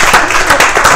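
A brief, loud burst of studio audience applause on a live show, dense clapping with a few stronger peaks and no talk.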